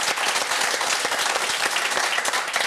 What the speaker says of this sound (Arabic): انا نطلب برك البوبليك تاعنا ومام لي زانفيتي صفقوا مع الكاب فير